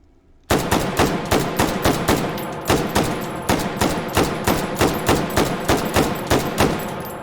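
An AR10 rifle chambered in 7.62 fires full auto in the VR game Hot Dogs, Horseshoes and Hand Grenades, a sharp, loud, evenly spaced stream of shots that starts abruptly and runs without a break.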